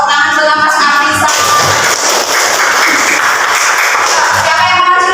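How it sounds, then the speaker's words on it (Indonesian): Audience clapping at a teacher-training class session, dense and steady for several seconds, with chatter and music-like tones mixed in. "Tepuk tangan buat Mas Afisa."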